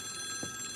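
A telephone rings during a Red Nose Day charity broadcast in Iceland, a steady bright electronic tone that is faint and continuous, with a soft low thump partway through and no voices.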